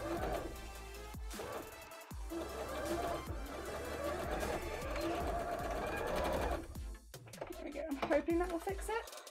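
A sewing machine stitches cosplay shorts in long continuous runs with a steady mechanical whir and rattle, stopping briefly before a final burst.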